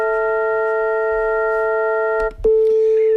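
Steady synthesized tones hold as a stacked chord, then a short glitch and a click before a single pure tone continues alone.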